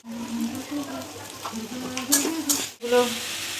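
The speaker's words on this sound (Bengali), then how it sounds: "আলুটা ভাজা হতে থাক লাল লাল করে একটুখানি নুন দিয়ে দিই" Diced potatoes fry in a pan as salt goes in. A steady close sizzle runs throughout with a few stirring scrapes and a brief break near the end, and a faint voice hums along underneath.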